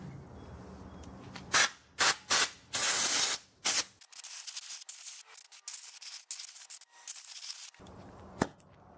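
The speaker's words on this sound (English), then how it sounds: "Plug this up and blow things off with some compressed air." Compressed air blowing debris off a 1988 Ford LT-12 lawn tractor, loud hissing blasts in short bursts followed by a longer stretch of gusty spraying, then a final sharp blast.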